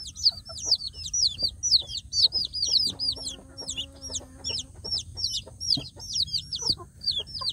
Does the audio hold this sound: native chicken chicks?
yes